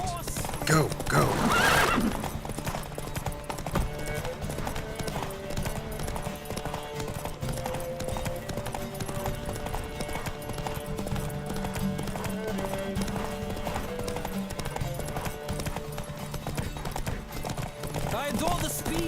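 Horses in a race in the video game Witcher 3 gallop with steady clip-clop hoofbeats under a continuous rush of motion, a loud horse whinny near the start, and voices speaking over the race.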